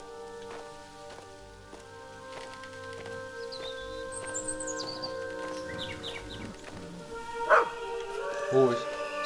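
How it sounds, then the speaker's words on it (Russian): A dog barks a few times in the horror video game Maid of Sker, the barks coming among rain-like ambience and game music tones, with someone speaking over them. "Ой, собака."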